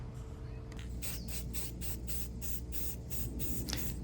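Rusted patio furniture being spray painted from an aerosol can, a steady run of short hissing bursts, about eight in quick rhythm, close and fairly loud over a low background hum.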